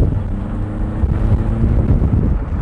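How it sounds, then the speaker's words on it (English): A car drives with its windows open, its low engine and exhaust drone rumbling steadily under a rush of wind noise, close and fairly loud with no talking. "Dude, I love the sound of this car, it's so nice."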